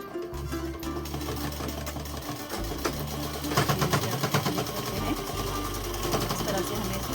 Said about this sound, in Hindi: अब हम इसको इसी तरह से पूरी सिलाई लगा लेंगे।